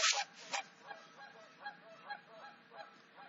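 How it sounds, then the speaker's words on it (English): Geese honk repeatedly in the distance, a series of nasal calls at an uneven rhythm, with a louder burst at the start. "the geese are pretty loud tonight"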